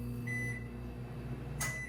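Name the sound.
microwave oven running and beeping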